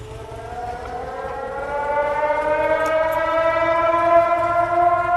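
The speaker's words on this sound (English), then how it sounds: "there's the siren for 12 noon on Tuesday" A civil defense siren sounds its noon test, one long continuous wail that swells steadily louder with stacked harmonic tones over low background rumble, heard alone without talk.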